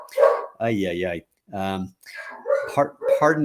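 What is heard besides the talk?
dog barking at a rabbit next door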